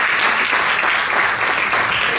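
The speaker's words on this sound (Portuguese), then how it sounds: "Um aplauso para as duas também" An audience applauds the illustrators at a children's rights anniversary arts event, a steady, dense wash of many hands clapping throughout without a break.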